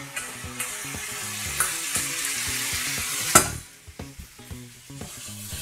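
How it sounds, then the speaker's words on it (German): Oyster mushrooms and onions frying in a pan, a close, steady sizzle with occasional clatters of stirring, then the hiss drops lower and grows uneven. "Ich gebe jetzt die Austernpilze mit Zwiebeln mit dazu."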